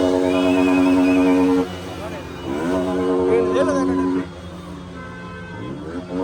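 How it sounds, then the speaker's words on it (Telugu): Motorbike engines and traffic on a busy street crowded after a film premiere in Tirupati, a loud rumbling drone with revving bikes passing close, while a person talks over the noise. "ఈ బైక్ సౌండ్లు ఎక్కువ ఉన్నాయి."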